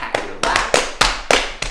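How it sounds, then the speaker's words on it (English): Hands pat a lap in body percussion, producing about six close, crisp slaps in a quick, fairly even rhythm with brief gaps between them. "You can pat your lap."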